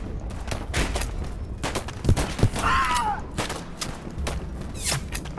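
Pistol shots ring out in the video game Polyfield, several sharp cracks spaced irregularly amid game effects, loud and close, with some talk over the action.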